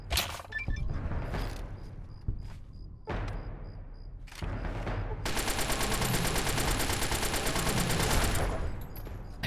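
Gunfire in the Fallout: Tale of Two Wastelands video game: several sharp single shots in the first half, then a sustained dense burst of rapid fire lasting about four seconds, loud and close.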